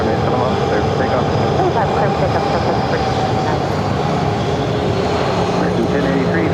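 An airliner takes off from runway 7 at Phoenix Sky Harbor, its engines making a loud, broad, continuous roar that holds steady throughout, with a radio voice talking over it.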